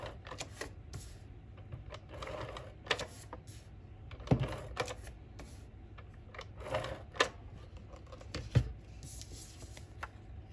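An ATG tape gun lays adhesive onto a handmade Christmas card in quiet, close bursts of clicking and ticking, with a few sharper snaps scattered through the run.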